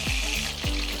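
Tangra fish fry in hot oil, sizzling steadily with a couple of sharp spattering pops, heard close up and with no talking.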